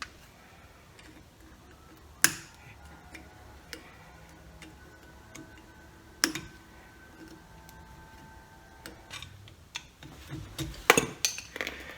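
A few sharp metallic clicks and clinks ring out, spaced several seconds apart, as a split pin and castle retainer are worked free of a Nissan 300ZX Turbo front brake hub during a pad and rotor change, with quiet ticking between them.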